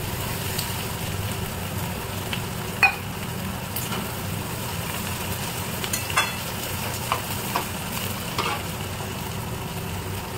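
Onions frying in oil in a pan for a mutton curry, a steady broadband sizzle with occasional stirring scrapes and small clinks, close and continuous with no talking.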